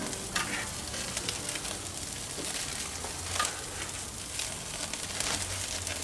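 Barbecue chicken sizzles and crackles on a grill as it starts to flare up, a dense steady frying hiss with scattered pops and a low fire rumble, close and without talk.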